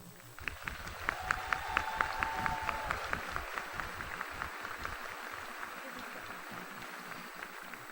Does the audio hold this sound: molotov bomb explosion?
no